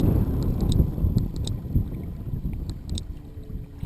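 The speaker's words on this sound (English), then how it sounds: "you can tell the wind's blowing pretty good here today" Wind gusts over a lake beside a fishing boat, a continuous low rumble of buffeting with faint water slaps against the hull and occasional small clicks.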